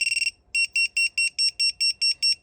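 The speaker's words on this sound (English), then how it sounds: "our very loud beeper" An FPV drone's buzzer beeper sounds loudly up close in a test. A fast burst of short beeps comes first, then a brief pause and a steady series of evenly spaced shrill beeps, roughly four per second.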